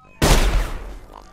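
A single sharp burst of enemy gunfire in the stealth survival game Sir, You Are Being Hunted, a loud near blast at onset that decays into a rumbling tail over about a second.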